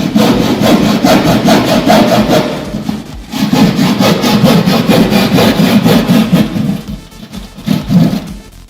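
Hand saw cutting through drywall plasterboard during a repair of damaged gypsum board cladding, with steady rasping back-and-forth strokes that run loud and close, pausing briefly near the three-second mark before the rhythmic sawing resumes.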